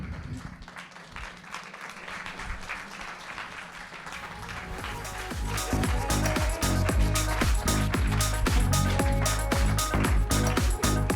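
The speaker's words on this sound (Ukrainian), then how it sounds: "Поплескайте, поплескайте гучніше, гучніше." An audience claps and cheers, the applause starting thin and swelling into loud, dense clapping from about the midpoint, with music-like tones mixed in.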